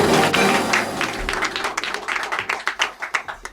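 An audience applauds a music act on a podcast, starting as a dense burst of clapping that thins out into scattered, separate claps toward the end.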